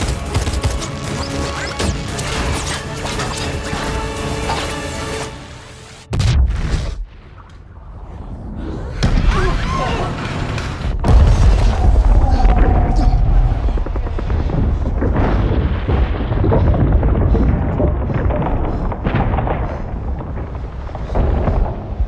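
Action-film battle in a city from a sci-fi movie: heavy weapons fire and crashing explosions, with loud bursts, sudden cuts and impacts over rumbling, mechanical noise and scattered voices.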